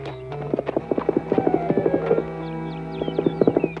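Cartoon horses clip-clop along in a steady, quick rhythm of crisp hoof knocks, close and clear over a light musical backing.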